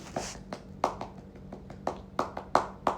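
A scout clap (tepuk pramuka) is performed in a rhythm of about ten sharp, close hand claps over three seconds, spaced in uneven groups, with no talk over them.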